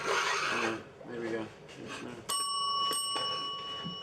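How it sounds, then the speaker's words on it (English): A bicycle bell is rung on a film set in a single sharp ding with a long ringing tone, near and clear, following talk among the crew. "Maybe you ring the bell."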